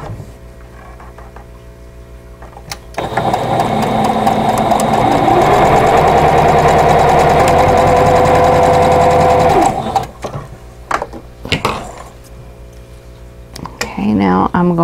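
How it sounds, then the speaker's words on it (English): An electric sewing machine stitching quilt block pieces runs in a steady loud whirring hum for several seconds, then stops, followed by short bursts and clicks as fabric is handled. "I'm going to make two of these, and they're exactly the same, so I'm just going to sew them one right after the other."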